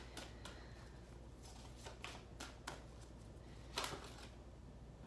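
A deck of oracle cards being shuffled, with a series of soft riffling flicks spaced through the clip and one sharper snap near the end, quiet and close with no talking.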